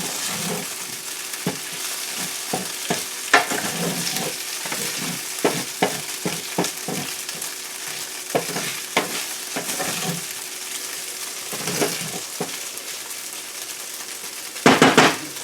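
Tofu sizzles in a hot pot as a spoon stirs it in repeated scraping strokes over a steady frying hiss, ending with a short burst of utensil clatter.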